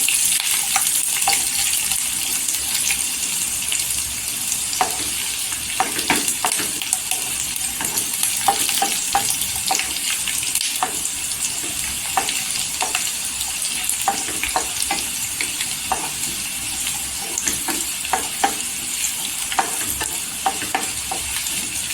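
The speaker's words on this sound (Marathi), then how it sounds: "लसूण गोल्डन कलरवर करून घ्यायची" Garlic sizzles steadily in hot oil in a pan for a fenugreek (methi) bhaji, a continuous bright frying hiss punctuated by frequent soft stirring taps and clicks, close and without talk.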